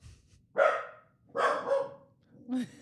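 A dog gives three loud, close barks, evenly spaced across a few seconds, with quiet pauses between them.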